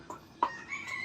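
Chickens and a rooster on a small farm give brief, faint clucks and a short call, quiet and somewhat distant within a second of sound.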